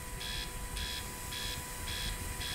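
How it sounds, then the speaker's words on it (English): Spaceship alarm in a space survival video game, a steady series of repeating high beeps, about five evenly spaced pulses over a constant low hum. "What's the alarm now?"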